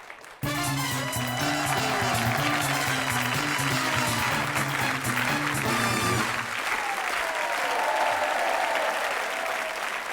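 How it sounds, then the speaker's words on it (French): A TV game show studio audience applauds continuously, dense and even, at moderate loudness for about ten seconds. "Nous partirons sur la 3e marche en compagnie de Pascal et de Brigitte, que je vous demande d'applaudir."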